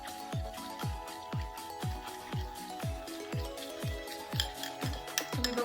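Olive oil is whisked into a homemade moisturizer cream in a bowl, about a dozen close, rhythmic scraping strokes in an even beat that quickens slightly at the end.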